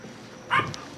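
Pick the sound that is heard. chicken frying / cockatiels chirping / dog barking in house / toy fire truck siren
dog barking in house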